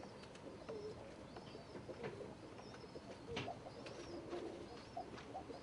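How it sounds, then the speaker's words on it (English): Soft, low cooing of Thai laugher pigeons repeats in the background over a quiet room hum, with faint higher bird chirps scattered throughout. "this is a Thai laugher, voice pigeon"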